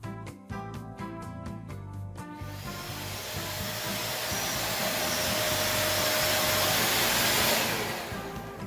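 A Wap Silent Speed Max upright vacuum cleaner switches on after a few clicks and its motor whine builds to a loud, steady roar that swells and then eases slightly near the end, with no talk over it.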